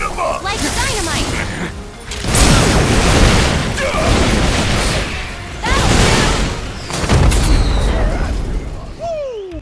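Dynamite-style explosions in Final Fantasy 7 erupt as several heavy booms and crashing bursts, broad and loud, rolling through a busy game battle with layered effects and whooshes between blasts.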